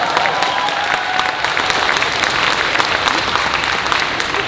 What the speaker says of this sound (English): Round of applause for the lighting department.